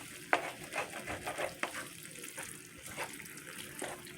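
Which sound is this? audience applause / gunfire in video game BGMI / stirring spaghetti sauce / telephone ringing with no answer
stirring spaghetti sauce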